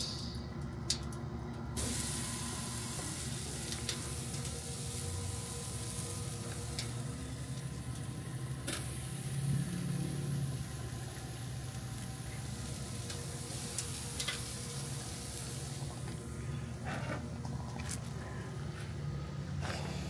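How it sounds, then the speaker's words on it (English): Grouper and snapper fillets sizzle in butter on a boat grill, a steady broad frying hiss that holds for the full stretch with no talk, with small crackles and a low hum of boat or engine noise underneath. "we're about to hear these things sizzle"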